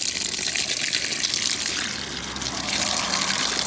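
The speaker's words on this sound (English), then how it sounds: "Water fountain" Water gushes steadily from a roadside water fountain atop a steep hill, a close, continuous splashing stream with no voices.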